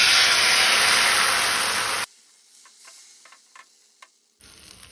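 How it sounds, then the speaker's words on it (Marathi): Boiled-rice dosa batter, made without urad dal, sizzles loudly on a hot tawa for about two seconds. The sound cuts off abruptly, leaving near silence with a few faint ticks before the hiss briefly returns. "तवो तापलो तसो ताजेर पोळो घालुया।"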